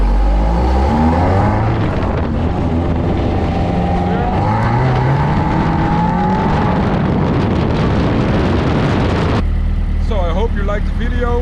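A BAC Mono sports car slides with traction control in mode 2, its engine roaring loud and close in sustained revs that rise and fall, tyres scrubbing beneath, before the note drops away near the end.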